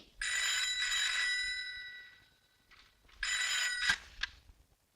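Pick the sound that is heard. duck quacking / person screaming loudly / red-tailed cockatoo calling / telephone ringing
telephone ringing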